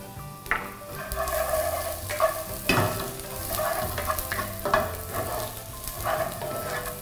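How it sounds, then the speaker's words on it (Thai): Garlic and dried chili stir-fried in a pan, a steady close sizzle broken by repeated scraping and clanking strokes of the spatula against the metal, lively and continuous with no talking. "ผัดจนให้เริ่มมีกลิ่นหอมนะครับ"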